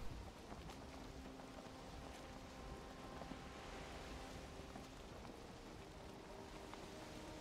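Steady rain in the video game Valheim hisses continuously with a soft patter of drops and a faint low rumble underneath, evenly loud throughout.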